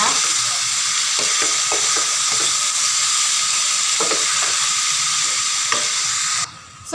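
Pork sautéing in a pan for Bicol Express, a steady loud sizzle with occasional stirring scrapes, then a brief pause near the end; a single short word is spoken.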